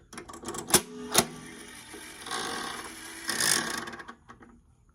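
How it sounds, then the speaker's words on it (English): Small toy slot machine from a thrift find, its handle turned: two sharp clicks land close together near the start, then a rattling whir of the spinning mechanism swells twice before fading, with no talking. "when you turn the little slot machine handle, let me see if I can do this"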